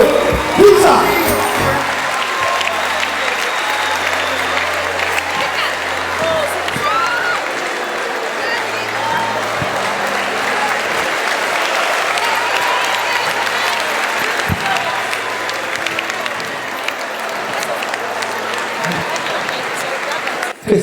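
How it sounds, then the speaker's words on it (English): An audience applauds and cheers through a standing ovation, steady dense clapping with whoops and shouts from the crowd, loud and sustained for the whole stretch, with voices mixed into the noise. "I think it deserves a standing ovation."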